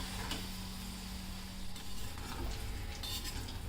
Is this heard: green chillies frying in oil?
yes